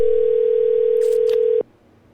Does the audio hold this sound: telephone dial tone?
yes